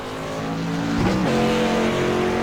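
A late-model race car on an oval track in a sim racing game, engine droning loud and close with a pitch that shifts as it moves, steady and alone without voices.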